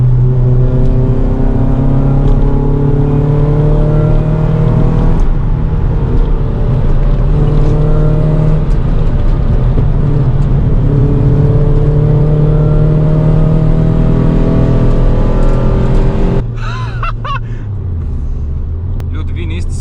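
A modified Ford Fiesta ST150 with a limited-slip differential drives hard, its engine droning loudly and climbing in pitch through repeated accelerations. The engine then eases off to a lower rumble near the end.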